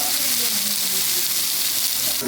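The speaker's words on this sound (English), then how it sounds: "The grill mark is crazy, and look at the way it's sizzling." Meat sizzles loudly on a grill, a dense hissing crackle, with faint tonal voice-like traces underneath.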